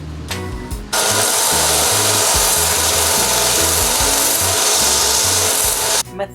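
Sanding the Yawfin slot on a paddle to fit the blade: a loud, continuous abrasive rasp of back-and-forth strokes in a steady rhythm, starting abruptly after a second and stopping just before the end.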